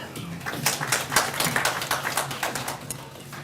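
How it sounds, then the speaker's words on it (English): Scattered clapping from an audience at a regional industrialisation week event, a moderate burst of individual claps throughout, not very dense or loud. "Shall we give a loud applause?"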